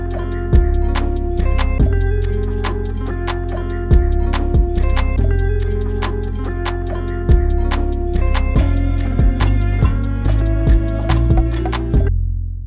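A trap beat programmed on an MPC Live, a deep sustained bass line under sampled chops and a fast ticking hi-hat pattern, playing loud and steady for about twelve seconds before stopping, with no talking.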